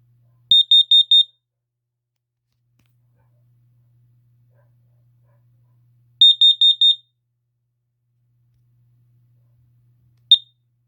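Very high-pitched smoke alarm nicknamed Jimmy, chirping in two short bursts of four rapid beeps separated by silence, then one brief final chirp, loud and close.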